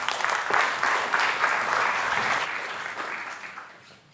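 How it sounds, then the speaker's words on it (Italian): Audience applause at a public assembly of young entrepreneurs, steady clapping from a full hall that stays loud for about three seconds and then thins and fades out toward the end. "vi chiedo il quarto applauso per Luca Paolazzi."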